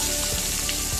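Potatoes and spices sizzle steadily in a pan, a close, continuous frying hiss with small crackles and no talk.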